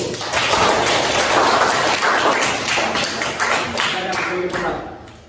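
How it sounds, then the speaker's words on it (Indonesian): Students in a school classroom clap their hands together, a loud, dense burst of clapping that fills the room and tapers off toward the end. "Oke, tepuk tangan untuk nomor 1."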